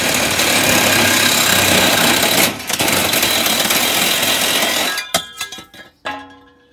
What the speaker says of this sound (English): That's how quick you can cut through exhaust tubing.